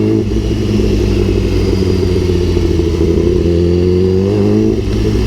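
Steady, loud engine drone of a BMW S1000RR sport motorcycle while riding, a continuous mid-pitched roar with slight revving swells throughout, no talk over it.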